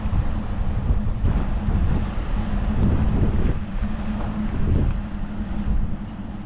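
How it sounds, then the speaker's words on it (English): Cold wind blows down a mountainside on Svalbard as a steady, loud rumbling buffet across the microphone, with gusts rising and falling. "There's a really cold wind blowing down this mountain behind us."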